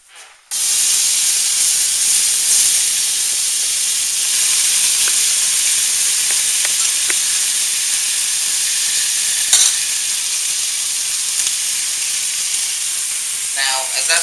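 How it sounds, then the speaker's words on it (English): Couple of bacon strips frying in a pan until crispy, a loud, close, continuous hissing sizzle running steadily from just after the start to the end, with faint clatter briefly near the end. "grab a couple pieces of bacon. Now it wants to come off one at a time. And we are going to cook these until they're very crispy."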